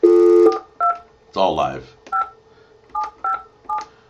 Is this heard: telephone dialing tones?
yes